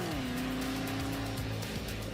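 A Camaro V8 pulls hard on a quarter-mile run, its engine note climbing then holding a steady, loud roar with a strong low rumble throughout, no voices over it.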